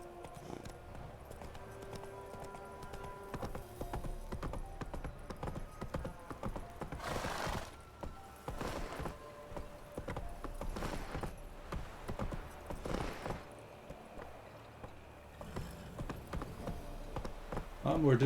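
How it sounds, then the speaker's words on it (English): Roach, a horse in The Witcher 3, clip-clops along narrow town streets at a steady trotting rhythm, with occasional whinnies, someone talking at times, and background game music. "A lot more difficult to ride a horse on narrow streets like this than I was expecting."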